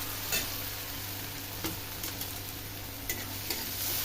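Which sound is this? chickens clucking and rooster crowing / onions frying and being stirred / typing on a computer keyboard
onions frying and being stirred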